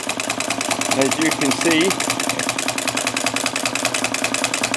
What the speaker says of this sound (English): This one is called a wobbler engine.